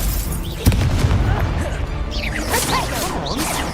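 Confringo explosive spell cast in the Hogwarts Legacy video game: a sudden booming blast followed by whooshing, crackling magical effects and chaotic combat swishes under a dense battle soundscape.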